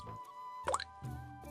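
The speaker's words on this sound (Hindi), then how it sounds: "घर की शांति को भंग करते हुए केवल पीतल के बर्तन में गिरती बूंदों की टिप टिप सुनाई दे रही थी।" Water drops falling from a leaking roof into a brass pot in an old house during steady rain, a few soft plops spaced apart at close range with a quiet room behind them.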